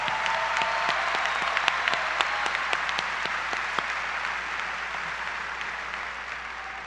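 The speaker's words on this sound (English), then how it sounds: "Ladies and gentlemen, let's give Megan Cluck a round of applause." A high school graduation audience gives a round of applause for a student speaker, sustained dense clapping from a large crowd with distinct individual claps popping through, easing slightly toward the end.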